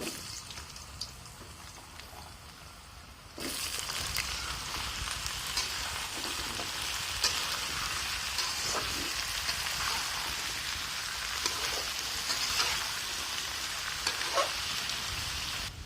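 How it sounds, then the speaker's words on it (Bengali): Potatoes hit hot oil and set off a loud, dense sizzle that jumps up a few seconds in and stays thick and steady, like heavy rain, after a quieter hiss at the start. "তেল গরম হওয়ার পর আলুগুলা আগে ভাজিয়ে নিব।"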